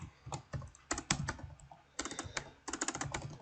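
Typing on a computer keyboard in bursts of quick, close key clicks with short pauses between runs, no voices over it.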